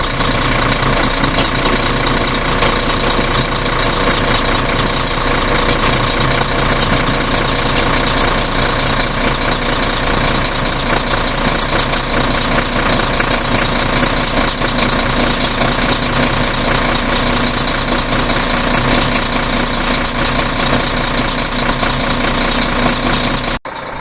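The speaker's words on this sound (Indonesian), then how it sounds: "Itu suara khas dari mesin Weichai" A heavy Weichai turbo diesel engine on a Howo NX430 dump truck idles steadily and loudly throughout, with a constant rough rumble and a faint turbo whine layered on top.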